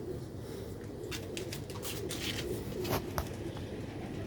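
Soft, low cooing of black-faced Sialkoti pigeons carries steadily through a faint background hum, with a few brief higher chirps and rustles scattered throughout.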